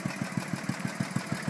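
Old Briggs engine on a 1973 Cushman Minute Miser running steadily, a close, low, even put-put firing rhythm of around six beats per second over a noisy mechanical wash.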